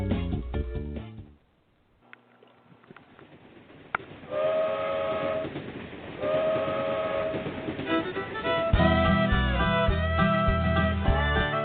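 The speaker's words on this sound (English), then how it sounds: "The bluegrass trains are coming from Beaverdale down to Alabama." A train rolls by with a loud, sustained multi-tone horn blast that swells, drops briefly, then returns stronger over rumbling wheels, fairly close and without talk.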